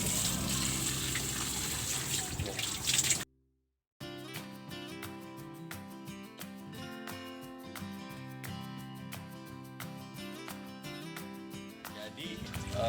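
Water sprays and splashes hard while an iguana cage is rinsed clean, a loud hissing gush for about three seconds that cuts off abruptly, followed by a stretch of music.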